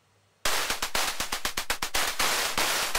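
A synthwave drum loop plays in a mobile music app, starting abruptly after near silence with loud, rapid, rhythmic percussive hits and a bright noisy texture.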